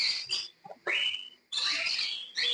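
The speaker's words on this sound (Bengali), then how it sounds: "আর ককটেল পাখি খুবই ভয় করে, তাই জন্য ভীষণ ওড়াউড়ি করে।" Frightened cockatiels at a breeding farm let out loud, harsh screeching calls in long bursts with short gaps between them, close and shrill, with no talk.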